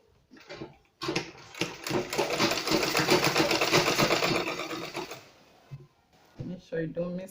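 A sewing machine stitches a polo shirt placket in one sustained close burst of rapid rhythmic clatter, framed by short pauses and brief mechanical handling sounds before and after.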